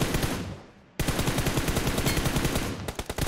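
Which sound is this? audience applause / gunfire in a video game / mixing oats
gunfire in a video game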